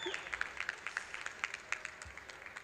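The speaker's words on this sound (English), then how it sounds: "we can clap for them" Graduation ceremony applause from a small audience, quiet and somewhat distant, with scattered individual claps forming an uneven rhythm and faint voices underneath.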